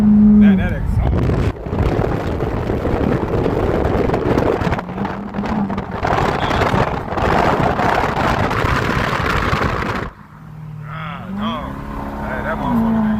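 A car's exhaust roars loud and close, a steady throaty drone that drops off sharply near the end and then idles lower, with excited voices and wind buffeting mixed in.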